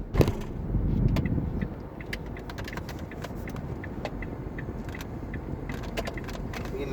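A Toyota Raize drives ahead on the road, heard as a steady car and engine rumble with road noise and scattered clicks and rattles inside the vehicle.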